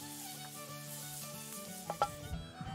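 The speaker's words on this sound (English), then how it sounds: "Browning this meat first will release a lot of the flavors." Salt pork browns in a pan in an 18th-century style kitchen, giving a steady close sizzle and crackle, with a few brief stirring scrapes near the end.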